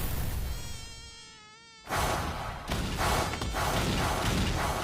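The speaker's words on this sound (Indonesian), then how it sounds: "Saitama yang sedang santai sambil menyiram bunga pun kemudian diganggu oleh seekor nyamuk." In an anime scene, a mosquito whines around Saitama as he waters flowers; the high, wavering buzz rises and falls, then is cut off by a sudden loud, noisy impact burst.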